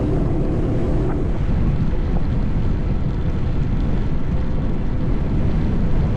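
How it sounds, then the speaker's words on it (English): Strong headwind buffeting the microphone while riding an e-bike on the route from Alcala to Meco, a constant dense roar with no pauses and no voices. "Because there is such a strong headwind, I have the power level set to 5"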